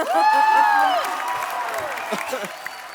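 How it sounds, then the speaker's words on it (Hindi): On a Hindi TV comedy talk show set, the studio audience claps and cheers loudly. The applause is mixed with whoops and a sustained musical tone, then fades under a busy, lively room. "सिद्धू जी के लिए जोरदार तालियां."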